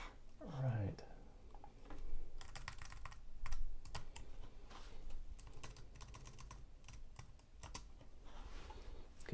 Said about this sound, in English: I'm standing and trying to type this.